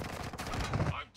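Rapid gunfire in a military shooter video game, a dense burst of automatic shots packed together over a second, loud and close with a brief tail at the end.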